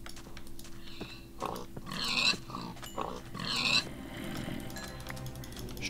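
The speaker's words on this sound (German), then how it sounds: "Auf jeden Fall müssen wir erstmal ein paar Schweine killen." Pigs in the video game Minecraft, two clear squealing oinks against a faint background of game sounds, with no talk in between.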